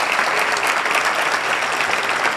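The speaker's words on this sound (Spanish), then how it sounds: "un aplauso muy especial, por favor, para ellos." Audience applause at a local police institutional ceremony, steady dense clapping from a crowd filling the whole stretch with no talk over it.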